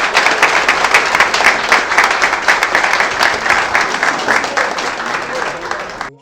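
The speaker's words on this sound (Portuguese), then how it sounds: "Eu peço uma salva de palmas para o Paulo Martins Pereira." Loud, sustained audience applause at a 25th-anniversary club gathering of Vasco supporters, dense clapping filling the room for several seconds before fading out at the end.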